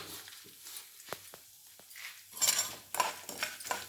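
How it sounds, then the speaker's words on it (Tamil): Urad dal and chana dal frying in oil in a pan alongside mustard seeds, soft sizzling with crackles and pops and a few clinks of a spoon, getting louder toward the end. "நல்லா பொரிகிற வரைக்கும் செவக்கிற வரைக்கும் வறுக்கணும்."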